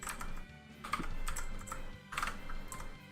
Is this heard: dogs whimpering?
no